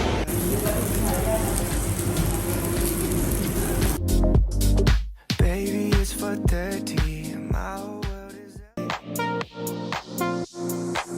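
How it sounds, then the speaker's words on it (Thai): Rain falling around a parking lot in Pattaya gives a dense, steady hiss for about four seconds, then harmonic music takes over the rest of the clip. "ตอนนี้ก็ฝนตกแล้วด้วย"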